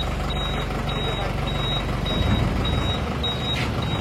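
A Tata truck runs with its engine rumbling steadily while evenly spaced reversing beeps repeat about once a second throughout, close and loud.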